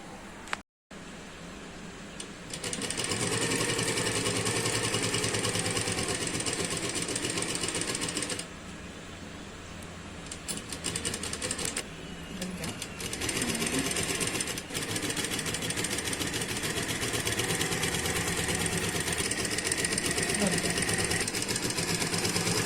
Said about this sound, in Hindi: एक बार फोल्ड करके पूरे गले में आपको सिलाई लगा लेनी है